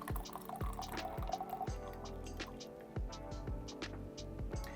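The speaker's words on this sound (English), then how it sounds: "you can pour the tea" Big Red Robe oolong tea poured from a small vessel, a steady liquid stream with drips and splashes running throughout, close and moderately loud.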